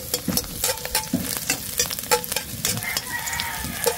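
Garlic, onion and chili sautéing in a hot pan, a steady loud sizzle with crackling pops and the scrape of stirring throughout, no voices.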